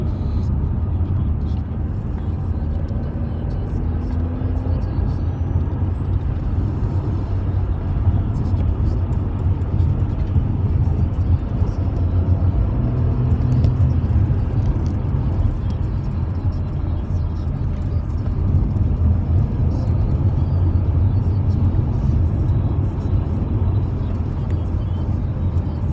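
A Mercedes AMG car driving fast on the road, with steady loud engine and road noise that holds throughout, under occasional talk inside the cabin.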